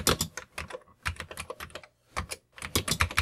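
Rapid bursts of keystrokes on a computer keyboard, clattering in quick runs with short pauses between them, close and clear with no voices.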